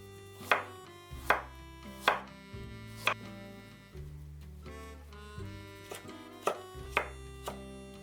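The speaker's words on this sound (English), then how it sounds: "Continue to prepare the other ingredients. Cut into julienne," A knife chops a carrot into julienne on a board in about a dozen sharp, evenly spaced strikes, heard over steady background music.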